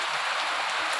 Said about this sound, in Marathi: भरपूर असा मोठा पाऊस यायला लागला.